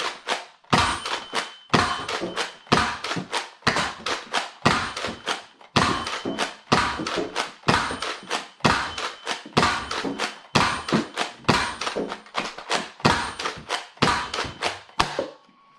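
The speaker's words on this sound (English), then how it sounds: "To fire the blaster, you pull the handle back, and then push it all the way forward" A NERF Hyper FUEL-20 blaster is pumped and fired over and over, giving a steady run of hollow thunks and clacks with brief gaps between bursts.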